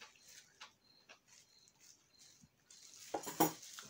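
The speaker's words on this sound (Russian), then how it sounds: "Все, пойду я посуду мыть." Dishes being washed in a home kitchen after making Korean-style garlic chive salad: scattered soft clinks of plates and cutlery, then a louder burst of running water and clattering near the end, with no talking.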